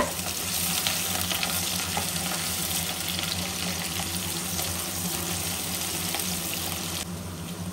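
Onion, green chili and curry leaves fry in oil with a loud, steady close-up sizzle that runs unbroken throughout.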